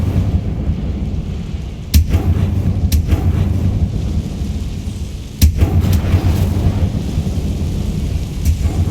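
An Incendio fire spell cast in Hogwarts Legacy gameplay: loud low roaring rumble with sharp blasts near two and five seconds and smaller cracks, sustained heavy whooshing throughout, no talking.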